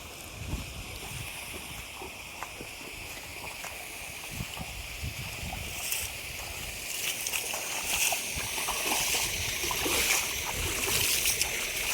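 Water flows through a stony creek in a Konkan coastal fishing spot, a continuous sloshing, babbling rush that grows a little louder toward the end, with faint splashes.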